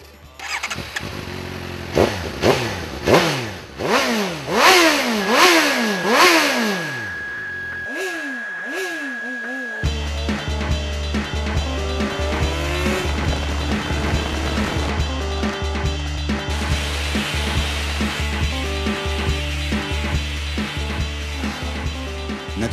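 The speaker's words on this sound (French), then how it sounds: "Je suppose que vous voulez entendre comment ça sonne un moteur de GSXR" A Suzuki GSR 750 motorcycle with a GSX-R 750-derived engine revs in several sharp rising and falling blips, then settles into a steady loud idle with a different running note.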